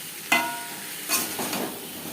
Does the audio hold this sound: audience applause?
no